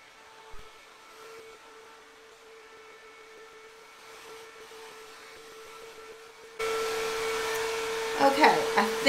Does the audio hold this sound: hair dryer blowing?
yes